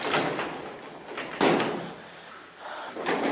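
A heavy late-1980s Dover hydraulic freight elevator door at a shopping mall is moved by hand, giving a sudden loud rumbling thud near the middle over a steady background hiss, with a softer scrape toward the end.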